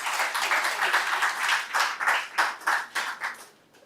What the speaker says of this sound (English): Emmanuel, let's give him a round of applause as he comes.